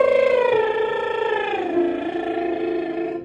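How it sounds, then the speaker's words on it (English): A single voice performs a light lip trill, a buzzing, pitched tone that starts higher and slides down step by step as a choral warm-up in a warm, opera-style placement. It is steady and close for about three seconds, with no talk. "We're gonna start with a light lip trill,"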